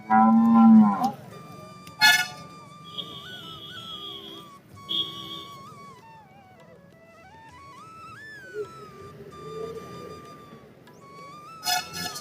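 Murrah buffaloes low in long, drawn-out moos at the Mamidada buffalo market, one after another, close by, with occasional short clanks and a faint whistle-like tone.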